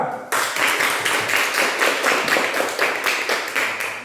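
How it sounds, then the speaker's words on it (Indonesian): A classroom full of people claps steadily for several seconds after a group presentation, a dense, even patter of applause. "Tepuk tangan kelompok 2."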